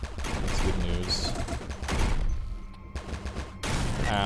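Explosions and rapid gunfire-like bursts from an action video game sound close and dense, with brief drops in intensity between loud volleys.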